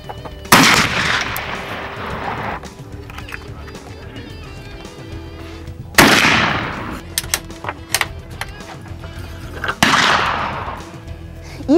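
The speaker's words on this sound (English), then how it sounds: "The muzzle-loading event focuses on black powder firearms, a hunting method that is centuries old." Black powder muzzle-loading firearms fired at a youth hunting competition: three loud, separate booming shots spaced several seconds apart, each with a long rolling decay, with faint talk between.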